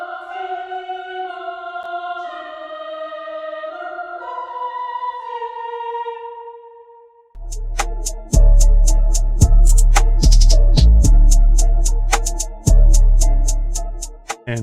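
Dark female choir sample from Choir Essentials, processed with delay, panning and a filter, holds sustained layered notes for about seven seconds, then heavy drum hits and a punchy beat take over.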